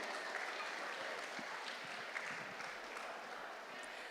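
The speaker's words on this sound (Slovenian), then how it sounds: "Mi pa mu zaploskajmo ob prihodu" An audience at a traditional gathering of the mayor with pensioners during the Ravne Days 2025 festival applauds steadily to welcome the arriving speaker, a dense, continuous patter of clapping heard from within the hall.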